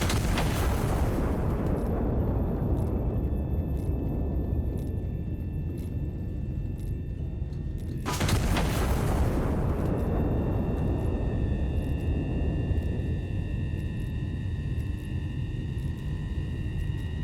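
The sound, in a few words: artillery shells exploding in a video game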